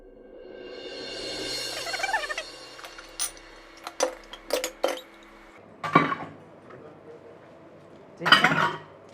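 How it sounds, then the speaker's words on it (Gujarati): Dishes and utensils being washed, with metal bowls and cutlery clinking in scattered bursts, some sharp and close, between quieter stretches of soft scraping. "વાસણ ઉટકાવું હું?"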